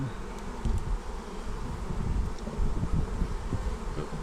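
Honey bees from a well-populated hive opened for inspection, humming in a steady low drone close by with no talking.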